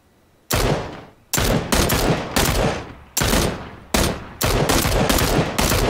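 PUBG gunfire cracks out in several loud, sharp bursts, some of them rapid volleys, each decaying over a moment before the next, separated by short gaps of near silence.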